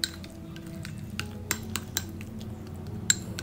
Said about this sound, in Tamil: பால் சேர்த்து நல்லா கட்டி இல்லாமல் நல்லா கலந்து விட்டுக்கோங்க